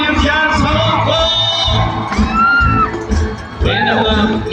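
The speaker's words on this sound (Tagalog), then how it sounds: "Pumalakpak ang nasa Hong Kong" A Hong Kong chapter audience at a gathering cheers, whoops and shouts in a loud, dense crowd roar that swells and dips in waves, with voices calling out over the noise.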